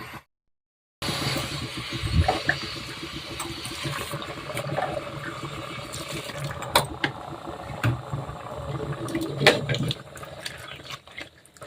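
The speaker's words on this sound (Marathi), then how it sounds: "पाणी घालायचं" Water poured into wheat chik batter for kurdaya, a steady liquid wash running unbroken for several seconds after a short silent start, with faint clinks and small splashes over it.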